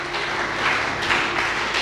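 A church congregation applauding together after a call to acclaim Jesus during a service, a dense, continuous wash of clapping from many hands, steady and fairly loud with no voices over it.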